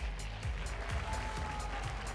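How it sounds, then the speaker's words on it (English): An audience at the 2023 Miss Universe Malta pageant applauds the top 16 contestants, a steady moderate wash of clapping throughout with a few faint voices mixed in. "another round of applause, ladies and gentlemen, for our top"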